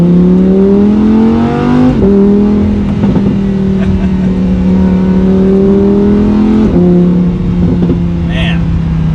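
A 2020 Lamborghini Huracan EVO supercar engine revs loud and close, a sustained droning roar with pitch dips and climbs as it shifts, running continuously with a brief higher whine near the end.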